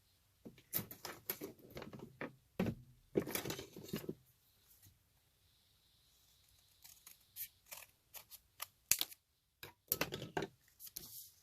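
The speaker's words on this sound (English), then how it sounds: "I'm just going to take my scissors and do it with my scissors." Scissors snip through paper in short bursts of crisp cuts, pausing between runs, close and fairly quiet.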